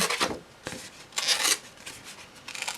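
A strip of patterned cardstock paper torn by hand for a handmade birthday card, a close dry ripping in several short rasping pulls with quiet gaps, no voices.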